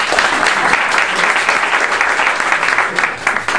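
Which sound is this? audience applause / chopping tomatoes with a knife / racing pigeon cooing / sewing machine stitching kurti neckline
audience applause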